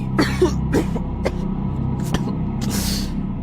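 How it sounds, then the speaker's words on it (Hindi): A person coughs from smoke repeatedly in short, harsh bursts, close by, followed by a raspy breathy exhale. "धुआं इतना अधिक था कि उसे खांसी आने लगी"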